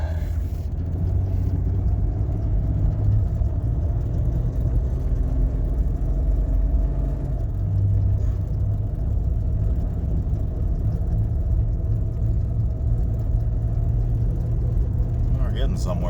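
A 2001 Jeep Cherokee engine idles while warming up, a steady low rumbling drone with a faint whir running unchanged throughout, close by and fairly loud.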